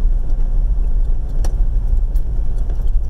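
A car driving along a country road toward Musselroe Bay near Cape Portland, past wind turbines: a loud, steady low rumble of engine and tyres from inside the vehicle, with a few faint rattles and no speech.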